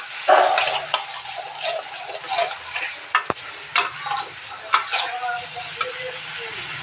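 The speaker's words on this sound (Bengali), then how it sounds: "আর এই তেলেই দিয়ে দেব এই টমেটো কুচিটা তো টমেটো কুচিটাও দিয়ে দিলাম তো এটার সাথে এটা ভালো করে আরেকটু নাড়িয়ে চাড়িয়ে আমি কষিয়ে নেব" Chopped tomatoes fry in hot oil for a prawn do pyaza, stirred with irregular scrapes and clatters of the spatula over a soft sizzle, close by, with a voice speaking at times.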